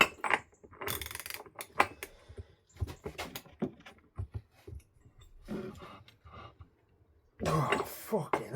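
A clutch holding tool works on a motorcycle clutch nut, making intermittent metallic clanks, ratcheting clicks and scrapes with gaps between, then a loud burst of strain near the end, while a man grunts and coughs close by.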